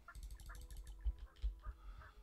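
Turkeys in the Settlement Survival game gobble and cluck in a short burst of fowl calls, several quick honking notes over a low hum, moderately faint and without talk.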